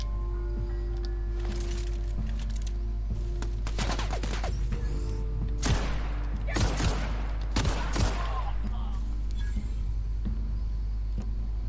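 Rapid bursts of automatic gunfire from a machine gun in The Outer Worlds game, several clustered volleys over a steady low game hum.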